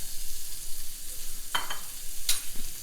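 Onions drop into hot butter in a pan for a steak and cheese dish, giving a steady broad sizzle with a couple of sharp spatula clicks partway through, close and without talk.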